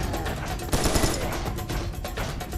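Dense, loud rapid gunfire from the video game Serious Sam 3, continuous bursts of automatic shots layered with heavy impacts throughout.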